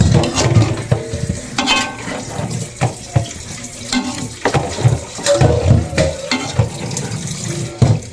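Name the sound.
stirring coconut milk into carabao meat stew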